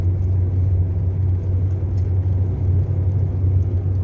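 A car travels along a road toward a cemetery, heard from inside as a loud, steady low rumble of engine and tyres with constant road noise and no talking.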